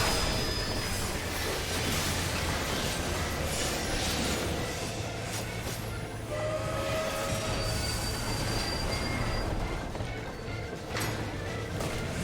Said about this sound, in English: it's a ghost train from FF4